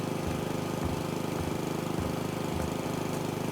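Lawn mower in House Flipper 2 cutting grass, a steady droning engine with a low rhythmic pulsing, close and continuous with no talk.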